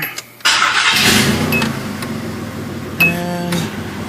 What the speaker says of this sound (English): This car starts right up.